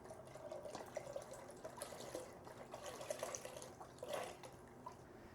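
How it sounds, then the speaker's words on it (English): Chicken stock poured into a soup pot for a Finnish Shrove Tuesday soup, a quiet, steady watery splashing and trickling that runs continuously, with a few brighter splashes along the way. "And now I'm going to pour over my chicken stock."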